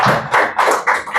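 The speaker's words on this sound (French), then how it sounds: "que je vous demande également d'applaudir" An audience at a business success-story forum in Parakou breaks into brief applause, a loud, close burst of clapping that swells in uneven waves.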